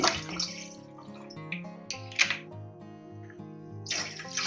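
Two glasses of water pour steadily into a metal pan, splashing and ringing with a resonant tone, close up and fairly quiet.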